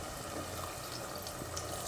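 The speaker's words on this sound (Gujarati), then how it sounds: "તો એમાં ખાલી થોડુંક જ પાણી નાખવાનું એમ." Water is poured from a vessel into a pan of green pigeon pea and potato curry, a brief steady gurgling stream with nobody speaking.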